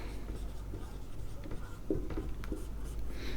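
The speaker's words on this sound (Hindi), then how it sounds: "तो यहां पे लिखेंगे" Pen or pencil writing by hand on paper while working a Class 10 maths exercise: soft, scratchy strokes in short bursts, close but quiet over a low room hum.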